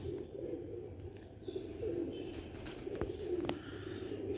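Sialkoti black-faced pigeons cooing softly in low repeated coos, fairly close, with faint shuffling and small clicks around them.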